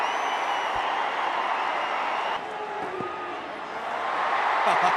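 Cricket crowd at an India vs West Indies match roaring and cheering in a steady broad wash, swelling louder toward the end, with a commentator's voice faintly under it.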